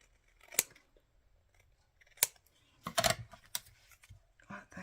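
Scissors snip through paper ephemera at a desk, a few crisp separate cuts spread across the moment, close and fairly quiet with no talking.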